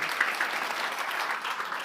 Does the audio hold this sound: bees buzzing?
no